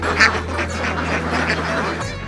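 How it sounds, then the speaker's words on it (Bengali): Ducks on a duck farm quack loudly and close by in a short burst, several calls overlapping above a low steady hum. "শাশুড়ির দেয়া মাত্র 2টি হাঁস এখন রূপ নিয়েছে বিশাল একটি হাঁসের খামারে"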